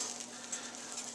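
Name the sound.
butter sizzling in a pan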